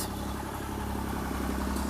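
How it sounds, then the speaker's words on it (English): A tractor rumbles close by outdoors, its steady low engine note with a mechanical clatter holding at an even loudness throughout, with no talking. "it sounds like there's a tractor going to come past me"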